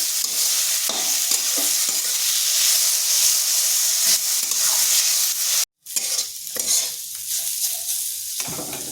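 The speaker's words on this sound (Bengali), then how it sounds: "2 মিনিট মতো হালকা নেড়ে ভেজে নিচ্ছি" Grated potatoes being stirred and fried in a pan, a close steady sizzle broken by repeated scraping strokes of a spatula, with a brief silent gap before the stirring resumes.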